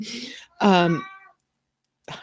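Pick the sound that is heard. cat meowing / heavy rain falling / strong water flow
cat meowing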